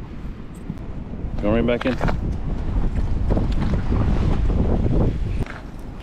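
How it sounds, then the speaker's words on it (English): Strong wind whipping across a frozen lake at an ice-fishing camp, a loud steady roar of gusts buffeting the microphone, with someone speaking briefly in the middle. "That wind is whipping."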